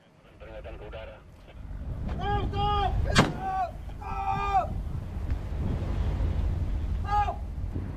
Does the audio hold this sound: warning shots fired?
yes